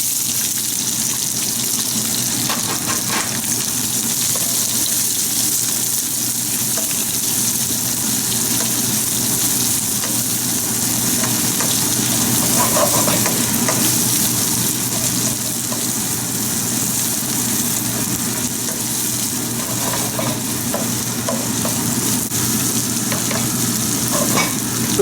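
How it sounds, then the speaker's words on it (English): Onions, carrots and chilies fry in oil in a wok over high heat for a noodle stir-fry, giving a steady, loud sizzle with occasional stirring scrapes and faint water sounds throughout, no talking. "So I'll fry it in this oil. So the first ones to go are onions,"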